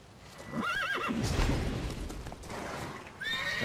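Neighing of a horse in Witcher 3 Blood and Wine, one wavering whinny followed by a short second call near the end, with hoofbeats clopping beneath. No one speaks.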